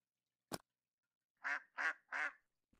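A duck quacks three times in quick succession within a video game, each call short and fairly loud, preceded by a brief sharp click and with no talk over it.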